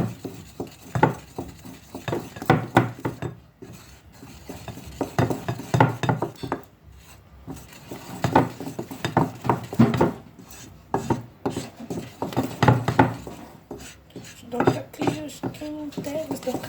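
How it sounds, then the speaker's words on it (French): A wooden spoon works flour into choux pastry dough in a pan, producing steady rubbing and scraping strokes up close, with a voice talking over much of it. "Maintenant, on rajoute la farine. Voilà. On mélange."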